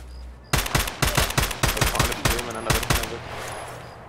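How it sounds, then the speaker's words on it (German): Automatic gunfire in the video game Escape from Tarkov: several rapid, loud bursts of shots crack out close by in an irregular rhythm, then the sound trails off into quiet. "Ich höre deine Schüsse"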